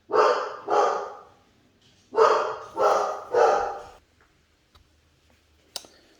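Dogs bark in two bursts, first a pair of loud barks, then three more close together, followed by quiet with a faint tick.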